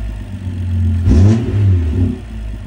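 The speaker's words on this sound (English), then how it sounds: "Just give it a rev." A BMW N55 engine fitted with a retrofitted B58TU fuel pump gives one loud, quick rev that swells and falls back to a steady idle, heard up close with no talking.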